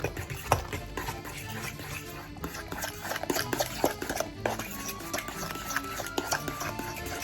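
Butter being stirred into mashed potatoes in a pot, a steady soft scraping and mixing with occasional utensil clinks against the pan, fairly close, with no talking over it.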